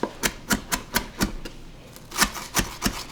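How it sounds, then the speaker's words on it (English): Knife blade chopping onion on a cutting board: a dozen crisp, evenly spaced taps in two bursts with a short pause between, close and clear, no speech. "I am going to cut this up a little bit more so it's not so oniony"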